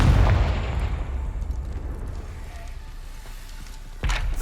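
A Confringo spell explodes in Hogwarts Legacy with a loud booming blast that decays over a few seconds, followed by a second sharp burst near the end.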